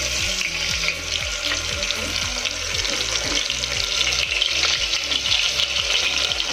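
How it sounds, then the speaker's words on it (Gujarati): Whole onion added to tomatoes in hot oil for South Indian rasam, sizzling loudly and steadily in the pan with occasional stirring scrapes, close up and without speech. "સારી રીતે મિક્સ થાય એટલે આપણે આમાં આખી જે ડુંગળી આપણે લીધી છે એને આમાં એડ કરી દઈશું।"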